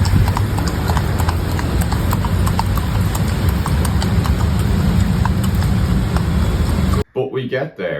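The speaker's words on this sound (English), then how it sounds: "That horse and cart ride is a bit crazy." A horse pulling a cart clip-clops steadily through busy Manila traffic in typhoon rain, its hooves beating on and on over engine rumble and wet road noise until the sound cuts off abruptly near the end.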